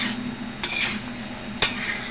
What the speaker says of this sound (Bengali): ভালো করে নেড়ে ছেড়ে আমি এটা ঢেকে দেবো